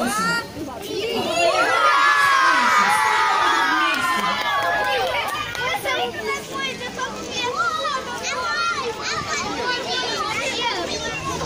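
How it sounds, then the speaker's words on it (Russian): Schoolchildren at a September first school assembly shout and cheer together, a loud crowd roar that peaks early and then breaks into scattered children's voices and chatter. "Мы кричим громко, ура, и выпускаем шары"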